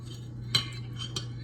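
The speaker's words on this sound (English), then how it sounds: "Just basically stirring up the ingredients." A utensil stirs summer vegetable salad of garden potatoes and squash in a bowl, making a few light clinks and scrapes at irregular intervals over a low steady hum, close and quiet.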